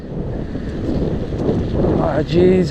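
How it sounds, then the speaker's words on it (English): Strong wind buffets the microphone during a cold outdoor bike ride, a steady rumbling roar that swells toward the end, with a voice briefly exclaiming over it. "Wow, it is windy."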